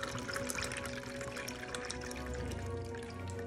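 A cocktail made in a Bartesian cocktail maker is poured into a glass, a close, steady liquid pour and trickle lasting a few seconds.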